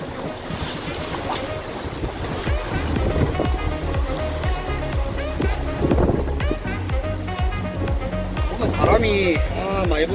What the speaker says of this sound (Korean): 파도도 많이 치고.